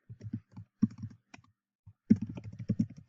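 A computer keyboard being typed on to enter a name, a quick run of close, light key clicks in two bursts with a brief pause between, no talking.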